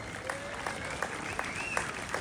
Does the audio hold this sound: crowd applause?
yes